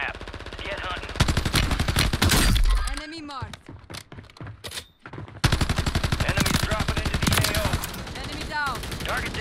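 Rapid bursts of video game gunfire from a squad battle royale match crackle loudly through most of the stretch, with a brief lull midway before the shooting resumes, while players talk over the action.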